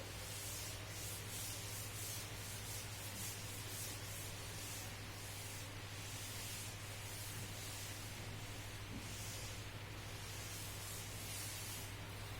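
An eraser or duster rubs writing off a board in a mathematics lecture. It makes a continuous, fairly faint scrubbing swish in rhythmic strokes over a steady low hum, with no speech.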